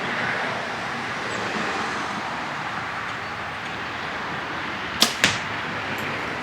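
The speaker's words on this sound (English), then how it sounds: "Shooting the bow has very little noise to it, really, really quiet." An Elite Synergy compound bow is shot twice in quick succession, two brief sharp snaps over a quiet, steady outdoor background hiss.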